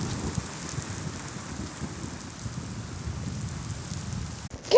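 Rain falls steadily in a light, close patter with a low rumble of thunder underneath, ending in a brief sharp knock.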